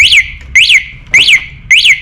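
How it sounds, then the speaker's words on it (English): An ESkuta SX250 Series III e-bike's anti-theft alarm blares in loud, repeating rising-and-falling electronic whoops, four bursts with short gaps, close and alone. "and then it makes a really loud alarm"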